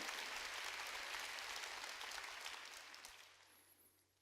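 A church congregation claps during a sermon, a dense wash of hands that stays steady and then thins and fades toward the end.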